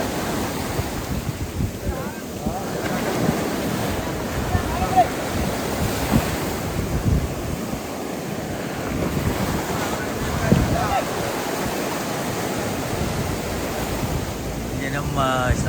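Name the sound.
sea waves crashing with wind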